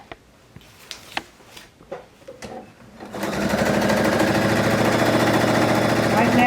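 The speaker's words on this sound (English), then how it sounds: "Right now I'm sewing rows 3 and 2 together." Quilt rows being stitched together on a sewing machine: a few soft handling clicks and fabric rustles, then a steady, rapid mechanical chatter of the needle running continuously and close.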